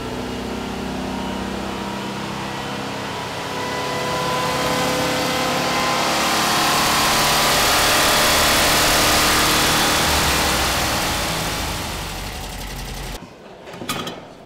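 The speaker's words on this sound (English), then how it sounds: "To test the maximum speed of the engine." A car engine running on a dynamometer speed test, revving steadily and climbing to a loud, sustained high-speed roar before cutting off abruptly near the end.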